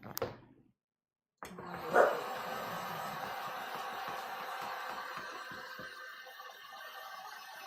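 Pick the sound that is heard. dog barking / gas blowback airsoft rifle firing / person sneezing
dog barking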